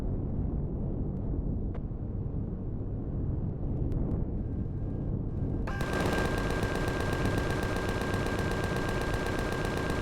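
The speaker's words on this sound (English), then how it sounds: "somebody's actually putting fire down on me" Automatic gunfire rattles in Empyrion Galactic Survival, starting as scattered distant shots and then turning into a loud, sustained burst of rapid rounds for the last several seconds.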